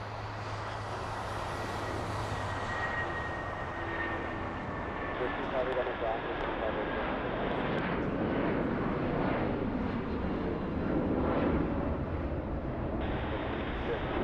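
The large DC-10 air tanker, Tanker 10, heading to the Palisades fire in Los Angeles, gives a loud, continuous jet engine roar as it flies overhead, with wind noise mixed in.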